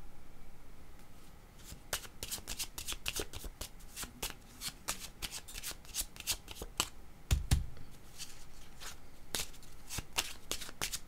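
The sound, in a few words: shuffling tarot cards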